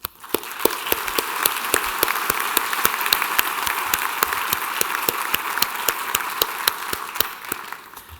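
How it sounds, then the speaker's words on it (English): Graduation ceremony crowd applauding in 2016: sustained, even clapping from many hands across the hall, with a few sharper individual claps standing out in a steady beat, running the full length before thinning at the very end. "So let me give another round of applause."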